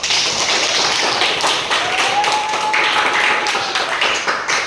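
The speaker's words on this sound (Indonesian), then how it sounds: "beri tepuk tangan untuk kelompok A" A classroom audience claps for group A, a dense, steady patter of many hands filling the room for several seconds with no talk over it.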